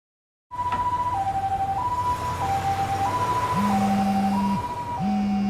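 A two-tone ambulance siren in the video game Lost Judgment wails steadily and loudly, its pitch stepping back and forth between high and low, with a lower siren tone joining partway through and no talk over it.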